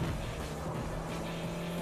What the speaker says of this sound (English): I'm locking up my brakes.